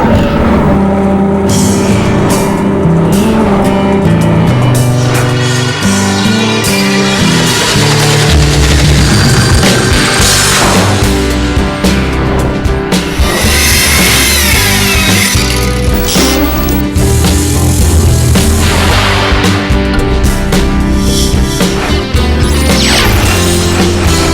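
Boat engine starting and running during trim tab checks, a loud, dense, continuous roar with clattering and shifting tones throughout, no talk.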